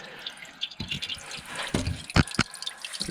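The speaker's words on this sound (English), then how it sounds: "just climbed underneath and water piddling out" Water drips and trickles from under a Vauxhall Corsa C with a leak soaking the carpets, a close, uneven patter of splashes with a few sharper drops standing out, no talking.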